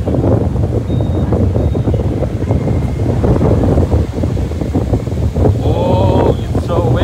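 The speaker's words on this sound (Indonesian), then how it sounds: "sangat bergelombang." Steady wind and rough sea noise at Fajalawa Beach, Morotai, roar continuously, waves churning close by with gusty buffeting, and a few brief voice-like tones near the end.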